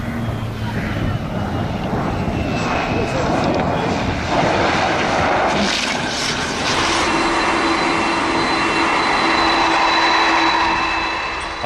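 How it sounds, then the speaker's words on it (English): Blue Angels jet aircraft making a low transition takeoff: a loud, sustained broadband jet roar that swells and holds steady throughout, with a faint tonal whine near the end. "The Blue Angels never fail to impress, and this low transition takeoff is pure skill and precision."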